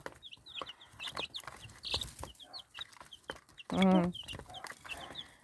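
Many chicks peeping and chirping in quick repeated calls, with an adult hen clucking loudly partway through, close by and busy.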